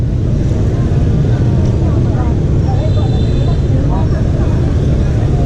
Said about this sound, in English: Insane traffic.